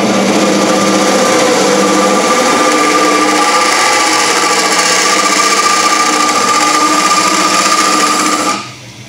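A natural-edged wooden bowl spins on a lathe while a fingernail gouge cuts it, giving a loud, continuous whirring drone that holds steady for about eight seconds and then drops away sharply near the end.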